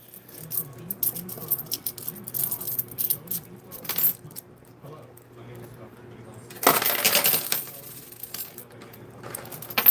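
Quarters dropping and clinking inside a coin pusher arcade machine, scattered metallic taps and jingles with a louder rattling cascade near the end.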